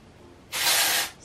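A single short burst of hair spray hisses for about half a second, bright and close, after a quiet moment.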